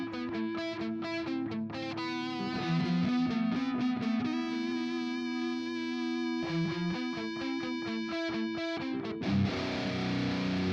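A heavily distorted electric guitar plays the intro riff of a song with lead flourishes, chugging palm-muted low notes broken by sustained ringing lines, loud and continuous with no talking.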